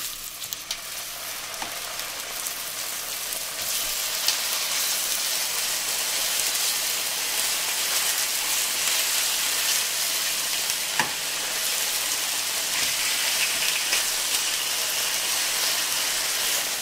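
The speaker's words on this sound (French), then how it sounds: "On a conservé la poêle en chauffe. On va maintenant faire griller" Pork chops sizzle steadily in a hot frying pan while being grilled, a dense continuous crackle that holds loud and close with a few sharper pops, no talking over it.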